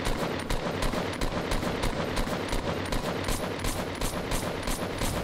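Rifle gunfire in a shooting video game, a continuous rapid volley of loud close shots hammering in an even, fast rhythm for several seconds with no pause.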